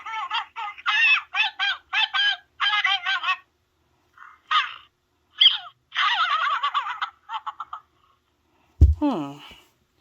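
A Build-A-Bear Gizmo plush toy plays its electronic voice: groups of short, chirpy, squeaky bursts, close and fairly loud, ending with a sharper warbling cry.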